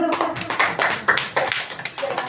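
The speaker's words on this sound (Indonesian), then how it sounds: "Tepuk tangan dulu" A small group claps briefly, a scattered burst of hand claps at close range that lasts about two seconds.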